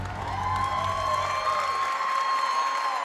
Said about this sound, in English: The crowd letting Ella Hodges have it